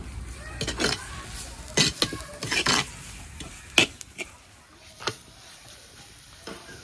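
Food with fish masala is stirred in a pan. Irregular scraping bursts and light clatter sit over a soft sizzle, with faint voices in the background.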